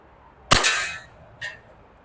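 An E&C Glock 19X BB pistol fires at targets: one sharp close crack with a ringing tail, then a second, fainter metallic hit about a second later.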